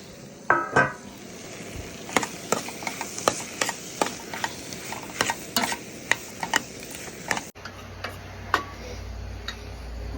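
Cut potatoes being stirred into a tomato curry at a roadside cooking spot, with a spoon scraping and ticking against the pot in irregular knocks over a faint sizzle and steady low background hiss.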